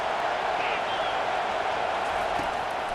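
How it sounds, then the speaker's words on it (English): A stadium crowd at a college football game roars steadily behind the defense on third down, a dense, sustained wash of cheering and noise that holds at an even, loud level throughout. "Decibels rising as the crowd gets behind this defense on 3rd down"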